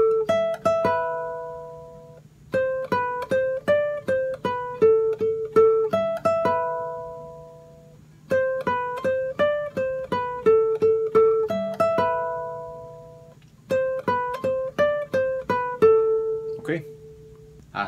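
Clean electric guitar playing the lead melody phrase of a song, a repeating run of plucked single notes in short phrases separated by brief pauses, close and clear with no talking.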